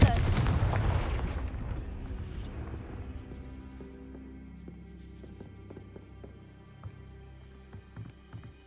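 A Confringo spell blast in Hogwarts Legacy hits near a castle gatehouse: a loud, heavy explosion at the start that rumbles and fades over several seconds, followed by scattered light taps and clicks.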